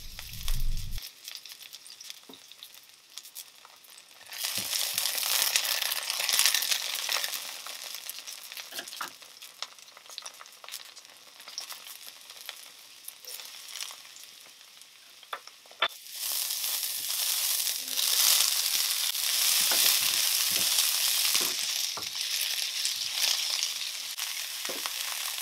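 Scallions and garlic stir-fried in hot oil in a wok, a loud sizzle building in two waves with scattered stirring clatter and scraping.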